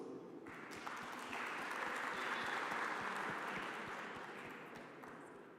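Audience applause at a Cape Town conference session, a steady, dense wash of many hands clapping that swells in the middle and tapers slightly toward the end, heard alone without talk.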